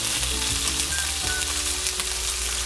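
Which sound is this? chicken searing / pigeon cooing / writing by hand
chicken searing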